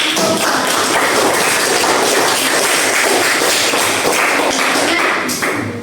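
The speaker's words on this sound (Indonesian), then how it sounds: "Oke, tepuk tangan." Steady, dense applause from a classroom audience during a teaching session on Islamic preaching, filling the whole stretch at full strength before easing slightly at the very end.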